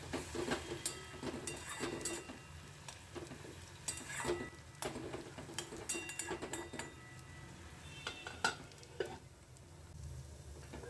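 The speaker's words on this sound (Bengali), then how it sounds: "এবার একটু জল দিয়ে নেড়ে ছেড়ে ঢাকা দিয়ে কষাবো" Fish curry of gang morla fish with a little added water is stirred in a pan: a steady sizzle under repeated scraping spoon strokes and light knocks against the pan, close and continuous, with no voices.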